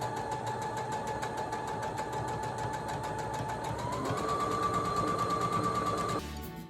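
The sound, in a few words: sewing machine stitching quilt pieces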